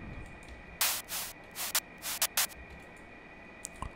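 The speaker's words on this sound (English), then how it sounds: "And don't forget to add some white noise." Short bursts of bright white noise hiss in an uneven pattern, some long and some clipped, over a quiet background with a faint steady tone, a layer in a future house track.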